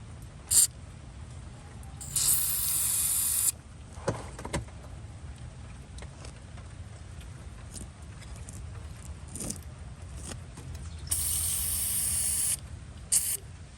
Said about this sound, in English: we got to lube everything else